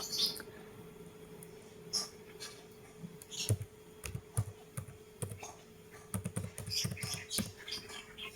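Quick, irregular clicking of keys on a computer keyboard, close by and fairly quiet, with short pauses between bursts of typing.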